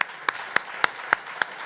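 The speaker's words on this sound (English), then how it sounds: "A round of applause for everybody for coming here today." Audience applause at a mayor's holiday press conference, brief and fairly close, with crisp claps landing in a quick, steady rhythm over a low background hum.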